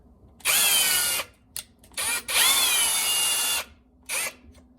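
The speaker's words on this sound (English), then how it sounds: "And I'll put a little counter drill in there." A power drill drills a countersink hole for drawer hardware, whining in several bursts, one long run and shorter pulses with pauses between, close and loud with no talking.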